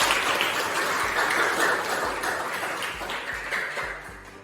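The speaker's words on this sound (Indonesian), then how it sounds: "tepuk tangan dulu untuk teman kalian" Children in a classroom clap for a classmate, a brisk, fairly close burst of mixed clapping that continues steadily and softens slightly toward the end.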